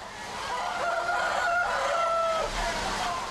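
A flock of hens with a rooster clucks and calls steadily at a distance on a poultry farm, a continuous layered murmur of fowl with a faint drawn-out rooster cry.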